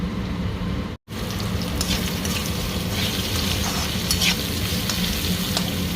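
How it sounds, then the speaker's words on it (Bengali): Potatoes fry with salt and turmeric in a pan for a mustard-paste aloo dish, giving a dense, continuous loud sizzle with scraping stirs, close-up, with one brief dropout near the start. "সরষে বাটা দিয়ে তার ভাজা যায় না, এই জন্য একটু লবণ আর হলুদ দিয়ে আর একটু ভেজে নেব।"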